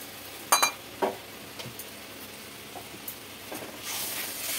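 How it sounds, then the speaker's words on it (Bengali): Spice paste sautéing in a pan for a vegetarian chhana kofta curry, a faint steady sizzle with a few sharp utensil scrapes and clinks near the start and a brighter hiss building at the end. "এটা ভালো করে সাঁতলে নেই।"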